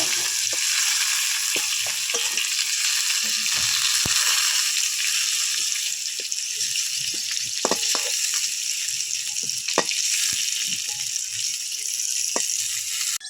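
Potatoes and pointed gourd fry in hot oil in a village kitchen, giving a steady, close, dense sizzle throughout, with scattered clicks and scrapes of stirring in the pan.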